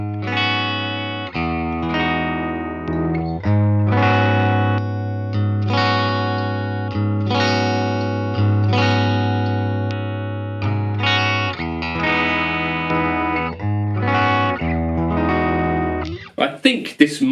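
Yamaha Pacifica electric guitar played through a coil-split pickup, with sustained, ringing chords and notes changing every second or two through effects, loud and alone, ending in a short burst of scratchy noise.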